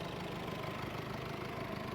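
A 2020 Mercedes-Benz Vito 114 Long van with an automatic gearbox and about 210,000 km idles smoothly, a quiet, even low hum with no knocks, heard alone without any talk.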